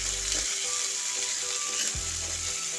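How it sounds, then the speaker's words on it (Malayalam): Onions, green chillies and curry leaves sizzle steadily in hot oil in a pan while preparing Kerala-style beef pepper roast, a continuous close frying hiss with low bumps from stirring. "ഇനി നമുക്കിതിലേക്ക് ഉള്ളിയും പച്ചമുളകും കറിവേപ്പിലയും കൂടെ ചേർത്ത് കൊടുക്കാം"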